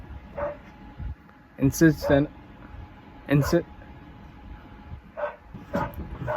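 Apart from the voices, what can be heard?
dogs barking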